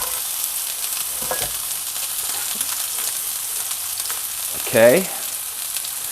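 Onions frying in a pan at the start of caramelizing, a close, steady hiss of sizzling oil with a few soft stirring bumps, and a brief spoken word near the end.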